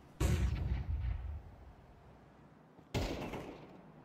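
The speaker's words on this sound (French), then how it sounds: "Le balle qui retentit de l'autre côté de la carte" Two loud booming gunshots in a Counter-Strike pro match on the Nuke map, each a sharp blast with a rolling echo that trails off, the second coming about three seconds after the first.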